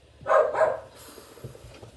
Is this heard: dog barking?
yes